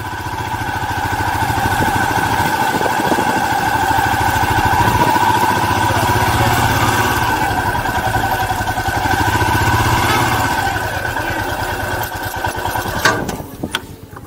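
A motorcycle engine idles steadily at Khardung La in Ladakh, a continuous mid-pitched rumble heard close and fairly loud throughout, with a brief clatter near the end.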